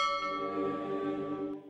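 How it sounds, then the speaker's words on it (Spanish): A single church bell toll in a story about a ruined church, ringing loud with a sustained, slowly fading hum that lasts nearly two seconds and has no talk over it. "Y sonó una campanada."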